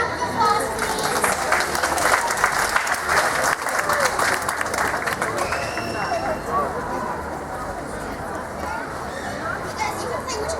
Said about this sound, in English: Let's give a round of applause, please.